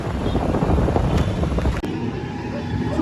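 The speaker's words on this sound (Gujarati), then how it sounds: "મસ્ત પવન મસ્ત આવે" Wind blowing steadily outdoors, a broadband rushing roar with gusty low-end buffeting against the microphone, continuous through the moment with one brief dip, no talk over it.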